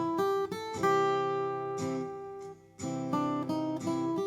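A blues turnaround lick in C with chromatic passing notes, played as a sequence of sustained, ringing tones with clear note changes and a brief pause partway through, loud and alone with no talking.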